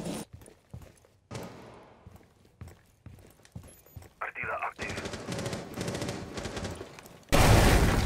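Gunfire in the Rainbow Six Siege video game: bursts of shots and sharp impacts scattered through the clip, ending in a loud rapid volley, with players shouting over it.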